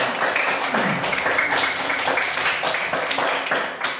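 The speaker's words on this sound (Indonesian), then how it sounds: "Tepuk tangan untuk kita semuanya." Schoolchildren in a primary classroom applaud together, a dense, continuous patter of many small hands clapping at close range for a few seconds.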